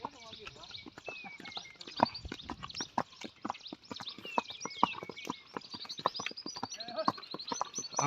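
A mare's hooves clip-clop in a steady walking rhythm while out on a ride, sharp close knocks repeating through the whole stretch, with people talking intermittently and faint ambient outdoor noise behind.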